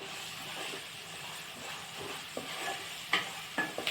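Onion, green chilli, salt and turmeric being stirred in a pan for lemon rice, soft sizzling hiss under faint scraping with a few sharper spoon clicks near the end, quiet and close.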